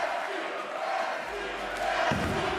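A crowd cheers and shouts at a bowling tournament, the PBA League Elias Cup finals, loud and sustained with a thud near the end and voices mixed in.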